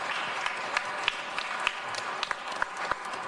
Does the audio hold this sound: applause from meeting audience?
yes